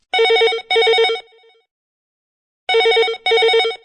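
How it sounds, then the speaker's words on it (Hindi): A telephone rings twice in quick double bursts, pauses, then rings twice again, clear and electronic, with no talk over it, on a radio call-in show. "फोन की घंटी बजबो शुरू हो गई है"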